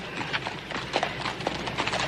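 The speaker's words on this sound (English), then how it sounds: "get your horse to manage a livelier gait?" A horse pulling a wagon on a Western trail, hooves clip-clopping in a steady, moderately paced rhythm at close range, with faint background rumble and no talk.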